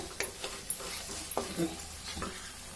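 Three chopped tomatoes frying in a pan with spice paste for a brinjal gojju, giving a steady low sizzle broken by a few scraping stirs of a spoon, close and moderately quiet with no talking.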